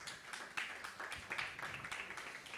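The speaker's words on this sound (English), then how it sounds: "So give a round of applause for Kimanzi as he comes." Workshop audience on podcasting and content creation applauding a speaker, a scattered, soft round of claps from a modest crowd, moderately distant and fading out.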